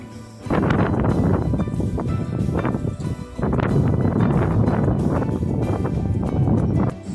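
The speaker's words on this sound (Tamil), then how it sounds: "காற்று வேறு லெவலுங்க. சும்மா ஜில்லு அடிக்குதுங்க கோயில் மேலே." Strong, gusty wind on the hilltop at Nagamalai Murugan temple buffets the microphone in loud, rumbling bursts that rise after a brief lull and keep roaring steadily.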